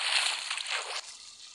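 Water poured from a bucket onto lava in the video game Minecraft gives a bright hissing slosh that cuts off abruptly after about a second, leaving a fainter fizzing tail.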